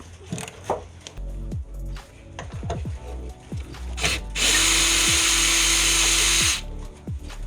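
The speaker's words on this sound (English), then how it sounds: "I'll crack them with the socket and then I'll run them out with the power tool" A power tool whirs in several short bursts, then runs in one sustained high-pitched whine for about two seconds before stopping, loud and close, running out bolts during Citroen Relay bulkhead removal.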